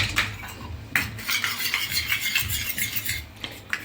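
A spoon stirs pizza topping of vegetables with about two spoonfuls of mayonnaise in a bowl, giving steady scraping and clinking strokes, close and continuous with no voices.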